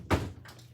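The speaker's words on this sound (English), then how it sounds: "Let me close the door" An indoor door in a home closes with a single soft, muffled thunk, followed by a faint lighter knock as it settles, heard close up and alone.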